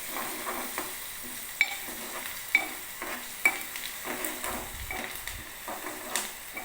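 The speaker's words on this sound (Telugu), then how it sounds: "ఆ తర్వాత పసుపు కూడా తగినంత ఇట్లా కొద్దిగా వేయించుకోవాలి" Turmeric fries in hot oil in a pan, with a soft steady sizzle, a spoon stirring through it and a few sharp clinks of utensil on metal. No one speaks.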